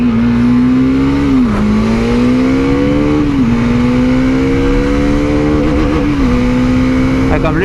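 A 2018 Bajaj Dominar motorcycle in Canyon Red accelerates hard, its engine note rising steadily through several gears with brief dips at each shift, loud and close, with wind rush throughout.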